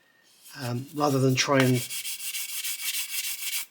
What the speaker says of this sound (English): that's why you can see we're sanding this cap